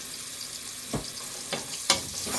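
Onion with white pepper being stirred in a pan for a meat pie filling, a low steady sizzle broken by three short scraping strokes of a spoon, the last one sharpest.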